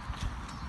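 A few quick, faint horse hoof clops sound on the ground in a stable, soft and close together.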